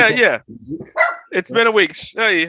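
A dog called out in barks and yips close by, short sharp calls mixed in with someone talking casually over and between them.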